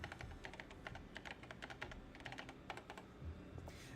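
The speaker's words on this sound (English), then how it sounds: "Use the keyboard in front of you." Rapid keyboard typing from the Paper Mario: The Thousand-Year Door Switch remake, a fast, steady patter of soft key clicks running continuously over a low background hum.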